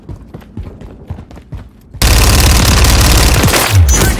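Gunfire in Call of Duty MW3 on the Highrise map in Domination mode, with a Fennec 45 submachine gun: scattered quieter shots first, then a sudden loud, sustained burst of rapid fire with a heavy low boom.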